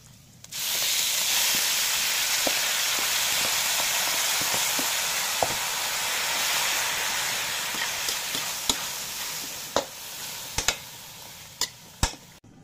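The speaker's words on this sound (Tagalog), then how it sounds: "ilagay na natin itong na-marinade na karne ng baka, yung na-slice natin ng maninipis" Thinly sliced marinated beef hits a hot pan for beef with bitter melon, bursting into loud, steady sizzling that hisses on continuously, with occasional sharp clicks and clacks of stirring toward the end.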